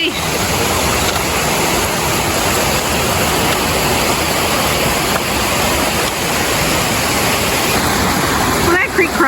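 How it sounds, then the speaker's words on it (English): Steady, full-band rushing water roars throughout, like a nearby waterfall, with a brief voice near the end. "And some pretty cool waterfalls up here too"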